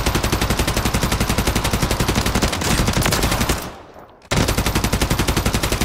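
Full-auto fire from the SVA 545 rifle in Modern Warfare 3: a loud, close, rapid and steady stream of shots that cuts out briefly, leaving a fading tail, then resumes at the same relentless rhythm.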